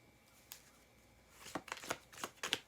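Tarot cards shuffled by hand to draw clarifier cards, a quiet flick near the start and then a dense run of riffling, snapping card sounds, close and alone.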